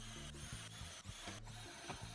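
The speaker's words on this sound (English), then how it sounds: "I can remove the clamps and drill out the rest of the holes" A power drill bores holes through a wooden story stick jig, its steady motor whine rising and dipping as each hole is drilled in quick succession, close and continuous.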